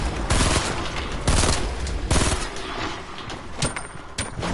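Grenades go off in Fortnite, three loud, close, booming blasts about a second apart, each with a long rumbling tail, over steady game background noise.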